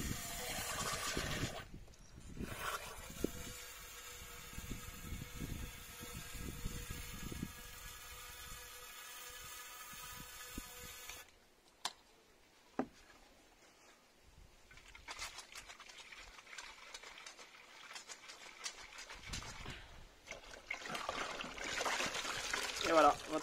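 Water trickles and pours through an exhaust pipe being decarbonized, faint splashing and dribbling that comes and goes in bursts, with someone speaking French in between.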